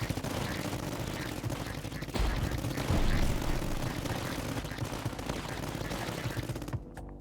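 An anti-aircraft gun in the tower defense game Tower Dominion fires in a dense, continuous barrage of rapid booming shots, loud and close, with no break until it cuts off at the end.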